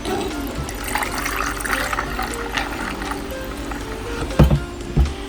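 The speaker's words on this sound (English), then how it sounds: "I'm getting ready to pour up me some of this lemonade" Pineapple lemonade pours steadily into a glass with a soft gurgle, followed by two short clinks near the end, close and fairly quiet.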